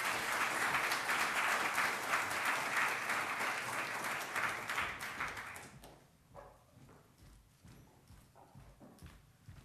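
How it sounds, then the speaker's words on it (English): Audience applause for a keynote speaker at a talk on illiberal democracy and terrorism: dense, steady clapping for about six seconds, then fading to scattered claps and quiet room noise. "So a big round of applause."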